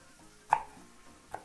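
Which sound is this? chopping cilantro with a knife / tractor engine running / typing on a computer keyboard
chopping cilantro with a knife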